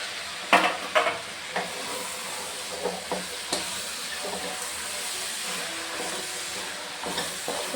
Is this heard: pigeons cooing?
no